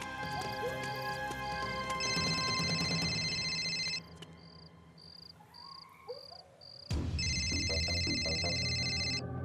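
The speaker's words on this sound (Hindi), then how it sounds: "इसका फोन यहाँ क्या कर रहा है?" A phone ringtone trills in two bursts with a pause between, over steady insect-like chirping and low background rumble. No one speaks.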